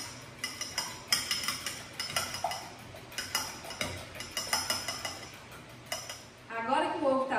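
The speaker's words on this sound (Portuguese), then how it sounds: "Nós vamos acrescentar 3 ovos grandes. Não precisa ser grande demais. E vamos bater bem esses ovos." Three large eggs beaten by hand in a bowl for a simple, moist coffee cake batter, with a run of quick, uneven clinks and taps of utensil against the dish, and a louder burst of scraping near the end.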